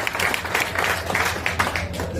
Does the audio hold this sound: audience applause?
yes